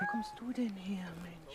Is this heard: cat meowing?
yes